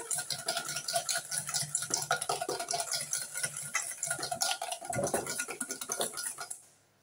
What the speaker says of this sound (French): que je vais bien fouetter. Donc de façon à le blanchir.